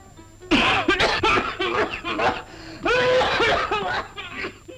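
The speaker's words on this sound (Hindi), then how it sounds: "इतनी भयानक खांसी है।" A person coughs heavily in harsh, repeated fits with strained, wheezing breaths between them.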